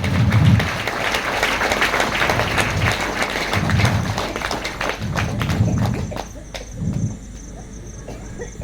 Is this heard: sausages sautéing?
no